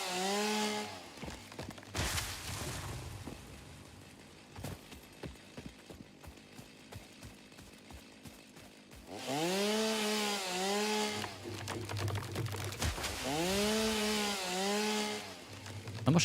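A chainsaw in a video game revs in loud bursts with rising and falling engine pitch, separated by quieter stretches of clicking and tapping. It comes back for two long revving passes near the end.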